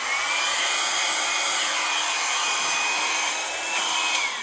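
A hair dryer with its diffuser removed blows across wet fluid paint in a steady, loud, close whoosh with a thin whine that holds unbroken from start to finish. No one speaks.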